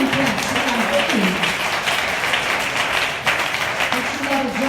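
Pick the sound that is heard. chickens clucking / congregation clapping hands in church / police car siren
congregation clapping hands in church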